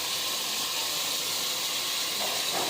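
Chicken coated in garlic-ginger paste fries in a pan with a steady, dense hiss close by, holding evenly for the whole stretch with no voices.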